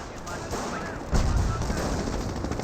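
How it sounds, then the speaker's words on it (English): Anti-tank grenades exploding against a tank in Company of Heroes, a heavy low thump erupting suddenly amid battlefield noise and distant gunfire, with a lingering rumble afterward. "More AT grenades being thrown, does get a hit there."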